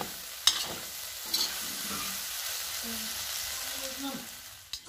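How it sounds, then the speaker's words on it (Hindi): Sooji halwa being stirred in a cooking pan, soft sizzling with a couple of sharp utensil knocks and scrapes, fairly quiet, with faint voices in the background. "चलाना जरा एक सेकंड"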